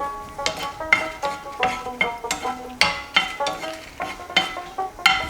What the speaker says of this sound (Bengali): সব মশলাগুলো আমার শুকনো খোলায় মানে কোনো তেল ছাড়া সবগুলো আমি ভাজবো